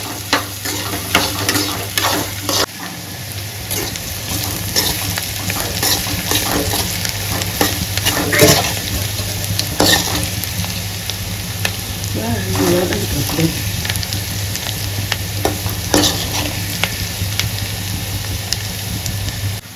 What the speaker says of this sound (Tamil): பூண்டு வதங்கிடுச்சுங்க.